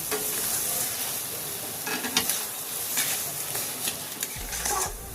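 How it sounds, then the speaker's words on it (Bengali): Sugar being stirred into sabudana in a pan, with a continuous close sizzle and intermittent scraping strokes, no talking. "এই চিনিটা ভালো করে নেড়ে চেড়ে মিশিয়ে নেব"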